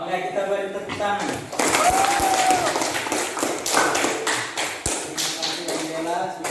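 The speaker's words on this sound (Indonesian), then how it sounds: "Oke, kita beri tepuk tangan." Students in a classroom give a round of applause, with crisp, close claps swelling after a moment of talking and continuing under more voices.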